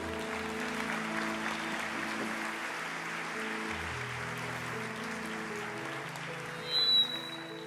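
A church congregation applauds softly during a sermon, the diffuse clapping sitting beneath sustained keyboard chords, with a brief louder burst near the end.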